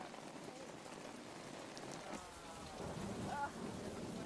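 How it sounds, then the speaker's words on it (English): Steady, heavy torrential rain hisses throughout, with a low rumble of thunder swelling near the end. "it rains in torrents for a month"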